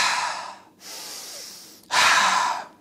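Slow, deliberate breaths in an energy-breathing practice: a long rushing exhale through the mouth, a softer inhale through the nose, then another strong exhale, close and loud, with no talking.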